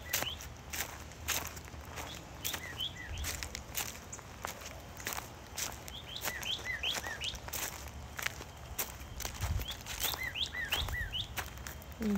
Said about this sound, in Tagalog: mga hinoy ng ibon.